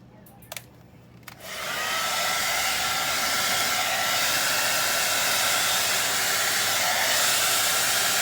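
A hair dryer switches on after a couple of faint taps and blows steadily and loudly onto acrylic paint poured on a tile, a constant broadband rush that holds unchanged to the end.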